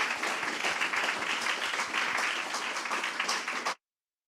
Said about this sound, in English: Just another huge round of applause